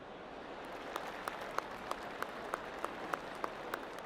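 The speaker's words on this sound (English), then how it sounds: "You hear that clap back there is Jerry, right?" Sparse, evenly spaced claps ring out over a steady hiss of crowd noise, faint and distant, about one clap every third of a second, from a golf gallery in the video game PGA TOUR 2K25 at Lost Dunes.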